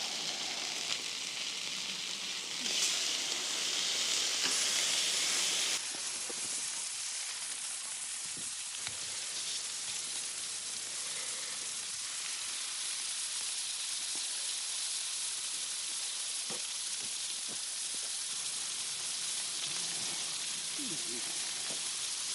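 A steak and provolone sandwich sizzles and fries on a griddle, a steady close hiss running throughout with faint scattered clicks and no speech.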